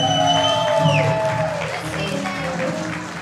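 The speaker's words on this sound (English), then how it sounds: "Give him a round of applause." Wedding guests give a round of applause, steady clapping and a few cheers mixed with lingering voices and tonal sounds, moderately loud and fairly close.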